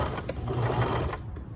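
A sewing machine stitches a shoulder seam, running steadily and close for a short continuous burst with a quick stop near the end, no voices over it.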